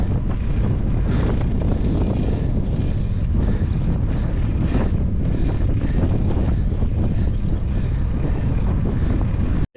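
Strong headwind and crosswind roaring across the microphone while cycling on a 100-mile century day of RAGBRAI, a loud continuous buffeting rush that fills the whole stretch without voices.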